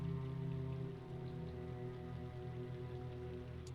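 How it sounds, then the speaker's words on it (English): Rain picking up outside, a soft steady patter of drops on a surface mixed with a low constant hum, fairly faint and continuous throughout. "you also hear the rain picking up"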